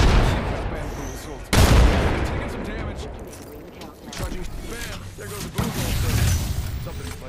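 A grenade explosion in a first-person shooter video game lands as a loud, sudden boom amid continuous gunfire and game effects, followed by more shots and rumbling blasts, with voices talking over the action.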